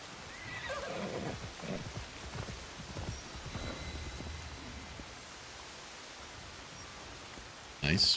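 A horse in the video game Assassin's Creed Shadows gives a whinny and a few clip-clopping hoof sounds over a soft, rain-like hiss, followed by a brief sharp sound at the end.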